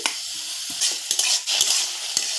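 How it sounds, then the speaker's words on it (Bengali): Gobindabhog rice dry-roasting in a wok on a gas stove, with a steady dry hiss and a few sharp scraping stirs of the spatula against the pan, close and fairly loud, no voices. "কড়াতে আমি এই চালটা দিয়ে দিচ্ছি"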